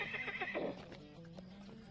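Horse in a fantasy video game gives a whinny and snorts over soft clip-clopping hooves, fairly quiet and close, with no talk.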